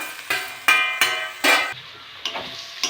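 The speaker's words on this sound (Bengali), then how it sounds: "মশলাটা ভালো করে কষে নেব" Spice masala with coriander, cumin and a large chopped tomato being stirred and sautéed in a hot pan, with repeated loud scraping strokes over a continuous sizzle.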